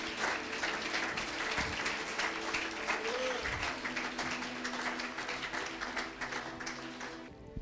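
A church congregation applauding and cheering in acclaim of Jesus, with a dense, continuous roar of clapping that fills the room and holds steady at a moderate distance, with a few voices faintly mixed in.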